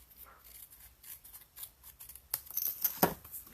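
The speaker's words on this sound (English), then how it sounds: "We can just snip that bit off at the bottom." Scissors snip off a strip of card during stamping crafts, giving a few faint rustles followed by two or three crisp, close cutting snaps near the end.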